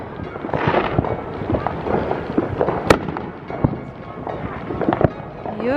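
Fourth of July fireworks go off around a residential neighbourhood, a dense run of sharp cracks and pops at varying distances, one especially loud bang standing out, with wind buffeting the microphone.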